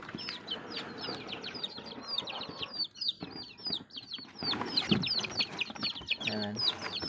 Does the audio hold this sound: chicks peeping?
yes